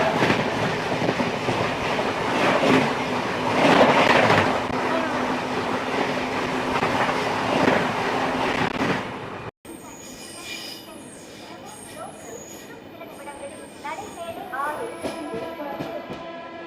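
A Sapthagiri Express passenger train runs on rails near Arakkonam Junction, a loud rolling rumble with rhythmic clatter that cuts out abruptly, then quieter interior sounds with faint squeals and tones.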